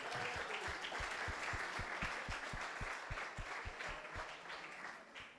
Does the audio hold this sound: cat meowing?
no